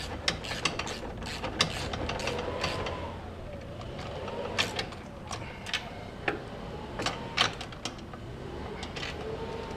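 Bolts being snugged down on a Seadoo 4-Tec jet pump with a hand ratchet, faint irregular clicks and ticks over a low background hum, with light metallic taps scattered throughout.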